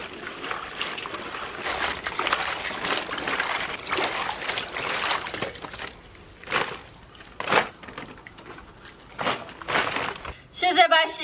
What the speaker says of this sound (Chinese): 把辣子往干净洗一下。